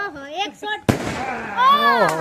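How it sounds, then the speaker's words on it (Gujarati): A Diwali firecracker goes off with a single sharp bang partway through, followed by fizzing, while people talk and exclaim excitedly around it. "પેટો છે ફટાકડો."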